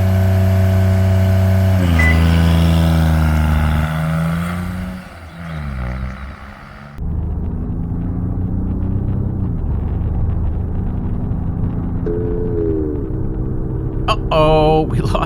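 A turbocharged Kubota D722 diesel engine in a Honda car accelerates from a standstill to 55, its loud droning engine note rising and shifting through gears, then fading and dropping off partway before a steady lower rumble continues to the end.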